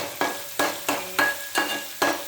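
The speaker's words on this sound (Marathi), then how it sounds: "वाटण जे आहे ते छान फ्राय करायचं." Masala paste fries in oil while being stirred, giving a steady sizzle broken by about six rhythmic scraping strokes of a spoon against the pan, close and fairly quiet.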